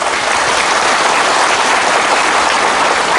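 A crowd applauds hospital officials at a gathering, sustained dense clapping that stays loud and even from start to finish with no gaps and no voices over it.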